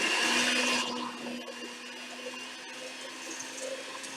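An electric mixer whirs steadily through cupcake batter for gluten-free, casein-free Halloween cupcakes, starting loud for about a second and then settling into a lower, continuous hum with a faint motor whine underneath.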